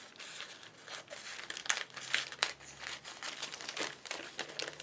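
Scissors cut through a single sheet of paper for a handmade double slider card, giving close, quiet crisp snips and crinkling rustles in an irregular series.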